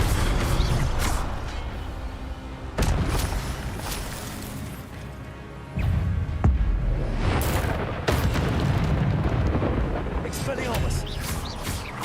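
Fire spell cast in Hogwarts Legacy, a run of booming, bursting game effects with sharp onsets at intervals, loud and layered over continuous game sounds and music.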